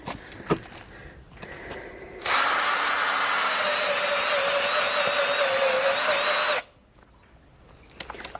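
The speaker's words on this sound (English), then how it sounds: "here where I made the hole with the drill" A power drill whirs loudly and steadily for about four seconds while drilling a hole, then cuts off, with quieter handling noises before and after.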